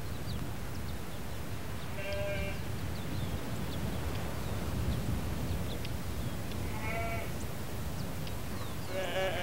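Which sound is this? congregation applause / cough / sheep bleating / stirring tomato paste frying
sheep bleating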